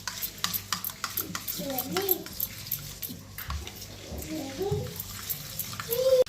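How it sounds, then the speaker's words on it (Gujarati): A spoon stirs raita of yogurt, cucumber, pomegranate seeds and coriander in a bowl, giving soft repeated scraping and wet squelching strokes close by while someone talks over it. "હવે આ વસ્તુને બધી મિક્સ કરી લેવાની"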